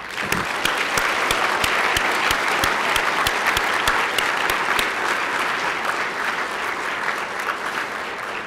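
Audience applause welcoming new team members at a nursing staff gathering, a sustained, fairly close wash of many hands clapping with a few sharper individual claps standing out.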